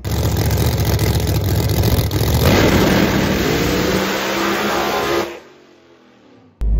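Dodge Demon 170 engine held on the trans brake with a loud, sustained high rev that climbs, then abruptly drops off to a low idle rumble before a brief burst returns.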